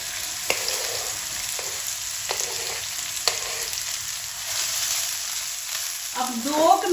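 Okra frying in hot oil with cumin seeds gives a steady, close sizzle for the whole stretch, marked by a few sharp crackles and, near the end, a brief scrape or clink of utensils.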